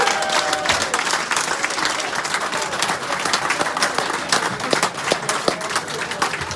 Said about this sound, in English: big round of applause for Lloyd Hayes for keeping his bottle